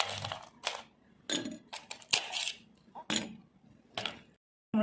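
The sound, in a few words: ice cubes dropped into a glass of Rooh Afza soda drink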